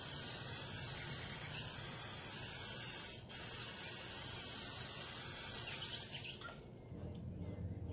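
A steady, loud hiss of oil sprayed onto chicken tenders in an air fryer tray runs continuously for several seconds, cutting out briefly once and tapering near the end.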